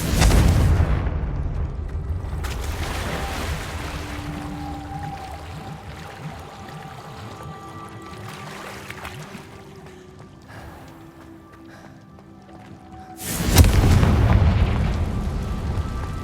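Confringo blasting spells detonate in Hogwarts Legacy, a loud booming burst opening the scene and another heavy blast near the end, with rumbling game ambience and music lingering between them.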